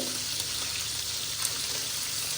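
Onions fry in a pan with a steady, close sizzle that holds at an even level throughout, with no voices.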